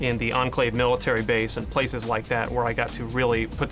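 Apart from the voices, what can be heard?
None of the usual background noises is heard.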